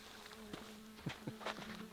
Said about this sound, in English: Fly away, Mr. Fly. Buzz, buzz, buzz, buzz.